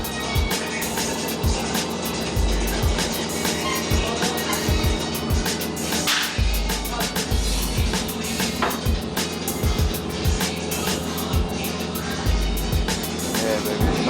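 Dodge Charger with the mid muffler deleted, its exhaust giving a loud, deep, continuous rumble nearby with repeated low throbbing pulses throughout.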